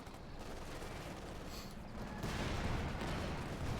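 A Jackson tank destroyer fires on a Panzer 4 in Company of Heroes 2, heard as a dense, low rumbling battle din that swells louder toward the end.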